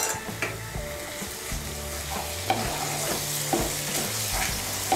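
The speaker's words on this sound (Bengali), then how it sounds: "আমি মশলার বাটিটা ধুয়ে সামান্য একটু জল দিচ্ছি।" A little water splashes into a pan of sizzling spice paste for a jackfruit curry, setting off a steady hiss with repeated spatula scrapes and light knocks, close and moderately loud, no talking.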